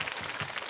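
Audience applause at a Cantonese stage comedy show, a dense, steady patter of many hands clapping across the whole short moment with no voices over it.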